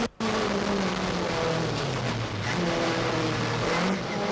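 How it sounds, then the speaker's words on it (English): A front-wheel-drive car accelerating hard up through the gears on a hill climb course, a steady loud engine drone rising in pitch with brief dips at gear changes, close and continuous. "Front wheel drive, of course, up through the gears and heading for the second chicane."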